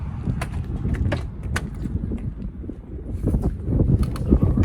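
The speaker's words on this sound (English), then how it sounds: "Woo, windy." Gusty wind buffeting the microphone outdoors beside a Ford conversion van, a constant low rumbling roar with occasional crackles and thumps, swelling louder toward the end.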